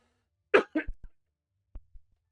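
A man gives two sharp, close coughs, then a couple of softer throat sounds, and finishes with two faint, brief coughs after a short pause in an otherwise quiet room.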